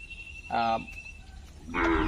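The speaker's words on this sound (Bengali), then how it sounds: "আমাদের এই উত্তরবঙ্গে দেশাল জাতের বলে সাতটি দেশাল জাতের গরু আছে" Deshal breed cattle in North Bengal give two short, deep moos about a second apart over a quiet background.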